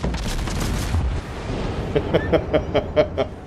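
Naval guns fire from warships in World of Warships, with deep heavy rumbling blasts followed by a rapid string of several sharper, evenly spaced shots, loud and near.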